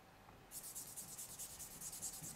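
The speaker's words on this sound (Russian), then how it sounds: "на правой руке не получается работать пилкой" A nail file buffs natural nails to take off gel: after a brief quiet start, a close, soft, rhythmic rasping rub repeats in quick even strokes, faint and alone with no talking.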